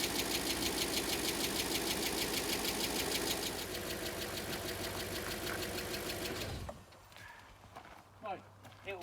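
A cold Audi A6 V8 engine runs loudly with a rough, ticking idle from top-end noise, then cuts off abruptly, leaving faint background noise and a few small sounds.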